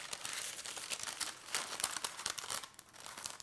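Paper folded a few times into an icing piping bag for cupcakes: continuous close crinkling and rustling with brief crisp crackles, fairly quiet, with no voices.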